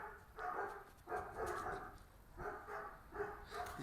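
A black German Shepherd whimpers and lets out short, fairly faint barks in uneven bursts, heard from a slight distance with pauses between the yelps.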